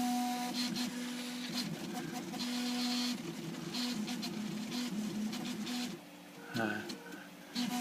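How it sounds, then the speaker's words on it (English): A modified Prusa 3D printer runs at speed with fast travel moves, giving a steady mechanical hum with shifting motor tones and short bursts of movement throughout. "printer I've been working on for some time."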